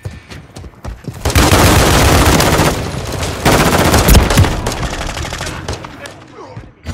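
Call of Duty gunfire: sustained automatic bursts, loud and close, running for several seconds with a short break in the middle, then single shots tailing off, with game sounds around it.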